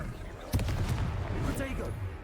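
A Confringo fire spell bursts in Hogwarts Legacy combat with a sharp, booming blast and crackling tail, followed by a second fainter burst, while a voice speaks over it.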